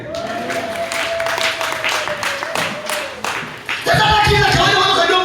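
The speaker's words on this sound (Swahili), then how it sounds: "Pigie Yesu makofi mengi" A church congregation at a Swahili sermon breaks into loud applause for Jesus, dense clapping running steadily throughout while a sustained musical tone hums underneath, swelling louder near the end.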